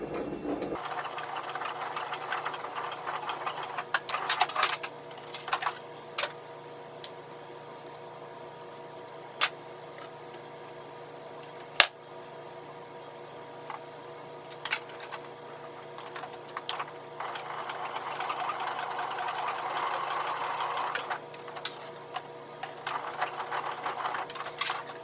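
A sewing machine runs a lock stitch across the end of a shoulder strap, a steady close mechanical hum with rapid needle chatter, broken by occasional sharp clicks and short pauses.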